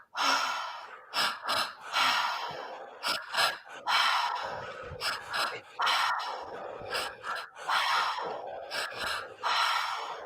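Repeated breathing in and out through the mouth during a guided breathwork session, loud, close breaths in a steady irregular rhythm of gasps and sighs with no talking.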